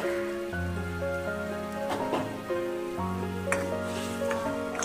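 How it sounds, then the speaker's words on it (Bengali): A pot of water at a full rolling boil with lentil dumplings (bori) tipped in, bubbling and hissing steadily throughout alongside tuneful background music. "বন্ধুরা জলটা পুরো ফুটে গেছে"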